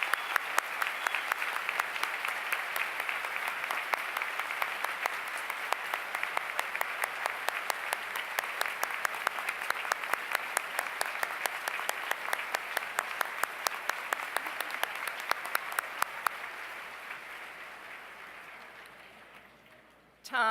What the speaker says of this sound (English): Will you please join me in thanking him for his innumerable contributions with a round of applause?